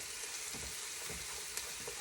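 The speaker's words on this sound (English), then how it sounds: "let me give this a good stir here" Onions and garlic cook in a pan with a soft, continuous sizzle, faint and close, while a few slow stirring sweeps scrape through; no voices.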